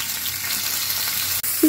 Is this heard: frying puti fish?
yes